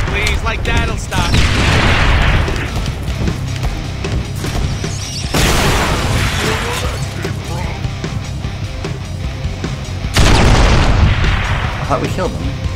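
Repeated gunfire and booming impacts aimed at the player in the Deadpool video game, heavy blasts surging at intervals over a dense, continuous roar of combat noise.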